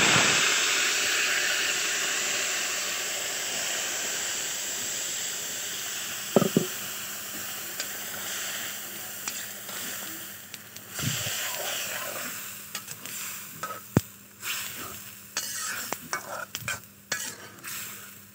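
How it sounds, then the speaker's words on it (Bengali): Malabar spinach being tempered and stirred in a hot pan, a steady close sizzle with bursts of hiss and a few sharp utensil scrapes and clinks against the pan, no talking. "পুঁই শাকটা বাগার দিয়া দিতেছি।"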